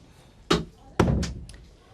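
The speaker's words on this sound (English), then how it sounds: "close the door" An interior door is pushed shut indoors in a quiet room, giving a firm thunk followed half a second later by a second heavier thud with a brief rattle, then a light click of the latch.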